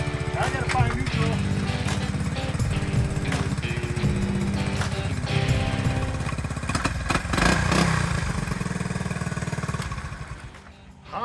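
A Honda CT90 motorcycle engine runs steadily with a close, rattling buzz that holds throughout and briefly dips near the end, with voices talking over it.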